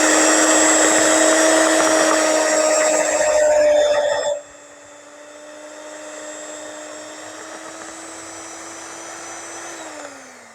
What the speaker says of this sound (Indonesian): Setelah seperti ini bisa kita mixer sebentar dengan kecepatan rendah.